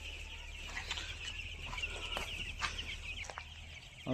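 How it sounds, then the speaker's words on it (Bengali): Tiger breed chickens and their chicks, about thirteen days old, cluck and peep in a rooftop room, faint soft calls repeating over a low steady background hum. "টাইগার মুরগি"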